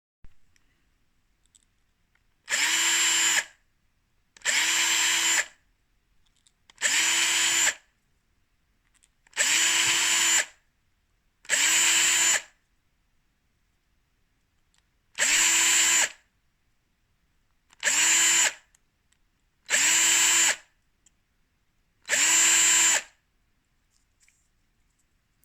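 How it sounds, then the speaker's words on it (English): A power drill enlarges undersized holes in 3D-printed wheels for a small SCX24 RC crawler, running in nine short, even bursts of about a second each with quiet pauses between, close and loud. "I need to drill them up a bit."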